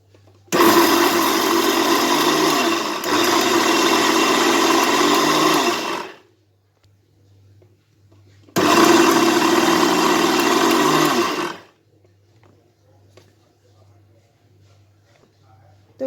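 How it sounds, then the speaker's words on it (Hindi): A mixer grinder grinding flaxseed whirs loudly in two bursts, roughly five seconds then three, with a short quiet gap between them. "अब मिक्सर जार को चलाऊंगी"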